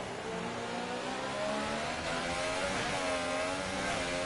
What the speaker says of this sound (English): Opens up the revs to close in on Kevin Jacobs.